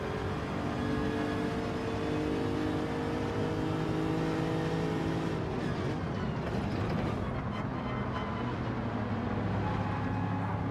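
A Porsche race car engine in Gran Turismo 7 drones steadily with layered whirring harmonics, the tone shifting as the car runs behind other cars, continuous and fairly loud throughout.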